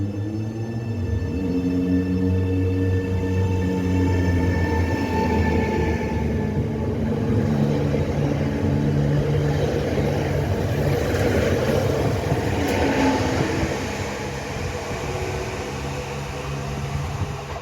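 A passenger train pulls away from a station and gains speed, its low tonal engine drone with rising pitched whines giving way to a broad steady rolling rumble, loud and continuous throughout.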